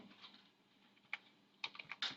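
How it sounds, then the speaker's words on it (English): Quiet, close keyboard typing as an equation is entered into Desmos on a computer, a few sparse keystrokes followed by a quicker cluster of clicks, with no talk over it. "either in your graphing calculator or in Desmos, we're going to type in the equation"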